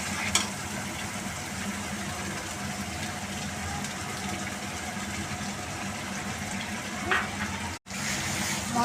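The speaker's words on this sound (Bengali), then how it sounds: "আমি আবার কিছুক্ষণ কষতে থাকবো।" Masala with tomato sauce is sautéed in mustard oil for a chicken dish, making a continuous, moderately loud sizzle with occasional spatula stirs and scrapes over about nine seconds, with one very short dropout near the end.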